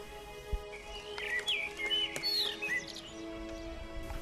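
A common blackbird near its nest gives a run of clear, fluting whistled phrases, fairly close and distinct over a quiet background, lasting a couple of seconds.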